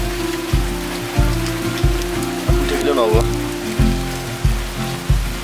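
Rain falls steadily in hilly Haflong, Assam, a soft continuous patter under a regular, pulsing low rhythmic sound, with brief speech partway through.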